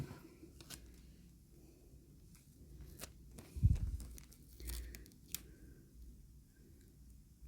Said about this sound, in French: c'est un scotch transparent